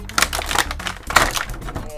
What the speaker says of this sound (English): Oh, so much crumpling.